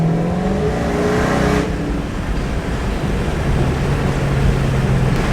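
A Hellcat car drives along a road with a loud, sustained engine roar, a tone shift near the midpoint and then a steady cruising drone, heard from inside, with no talk.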